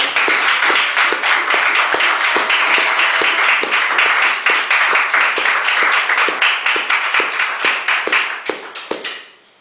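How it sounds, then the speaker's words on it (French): French-speaking church congregation claps in steady, loud rhythmic unison, sharp claps keeping an even beat for several seconds before trailing off and fading at the end. "Est-ce qu'on peut donner des acclamations très bien?"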